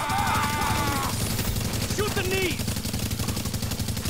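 Rapid automatic gunfire in Tom Clancy's The Division video game, dense bursts of shots continuing throughout over a steady background of game sound effects.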